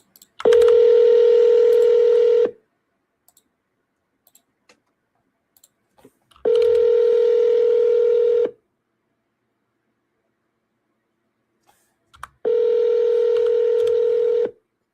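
A telephone line sounds during an outgoing call: three loud, steady tone bursts about two seconds long repeat at even intervals, with faint clicks in the quiet gaps and no talking.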